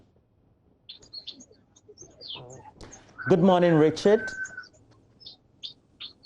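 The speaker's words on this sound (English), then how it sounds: "I could hear some birds chirping in there" Small birds chirp in short, scattered bursts in the background, heard before, under, and after a man's brief spoken greeting.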